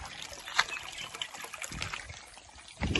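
Canal water trickles and gurgles steadily at close range, a soft continuous dribble with a few small splashes and some low rumbling near the end, with no talking.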